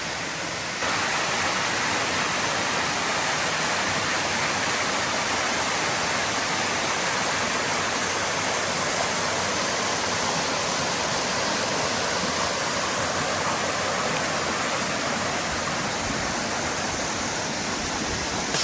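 A stream on state game land rushes in a loud, steady wash of water that runs unbroken from start to finish, with no voices.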